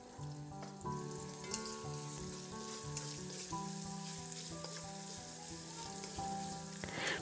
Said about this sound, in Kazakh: Пиязды әбден қоңырқай түске енгенше қуырамыз.